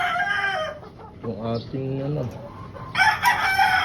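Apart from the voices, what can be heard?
chickens in a poultry farm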